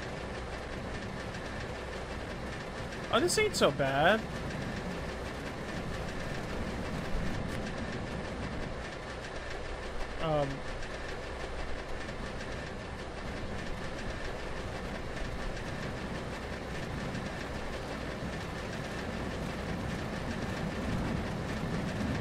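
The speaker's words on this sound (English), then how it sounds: "The engine starts immediately." A bus engine fitted to a Trabant sled in the video game The Long Drive gives a steady, droning rumble throughout, with someone briefly speaking early on.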